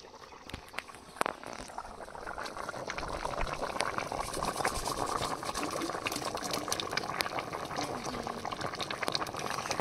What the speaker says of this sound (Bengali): তরকারির ঝোল ফুটে উঠেছে